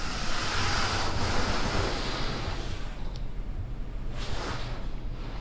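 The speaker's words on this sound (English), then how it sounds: "And we're getting our spot free rinse." The spot-free rinse of a PDQ Laserwash 4000 automatic car wash sprays water in a steady loud hiss over the car, with swelling surges of spray as the nozzles pass.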